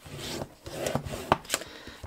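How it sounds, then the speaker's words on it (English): A scored fold in paper is burnished with several quick, close rubbing strokes that scrape and swish in an uneven rhythm. "give it a good burnish"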